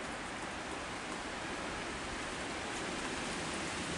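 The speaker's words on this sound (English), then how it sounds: "So we're having high winds and we had heavy rains the last 2 or 3 days." Heavy rain with high winds during a storm makes a dense, steady, broadband roar that stays even and unbroken throughout, with no talking.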